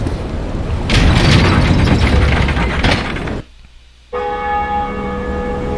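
Heavy bell ringing in Dark Souls Remastered, a loud, clanging, mechanical toll with grinding rumble, then a sudden near silence before ringing tones resume, steady and close with no voices.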